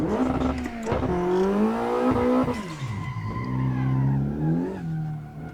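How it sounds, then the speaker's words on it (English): An all-wheel drive Mitsubishi Lancer drifting in a racing video game, its engine droning and revving with rising and falling pitch while the tires squeal and skid continuously throughout. "I just chose to drift an all-wheel drive Lancer."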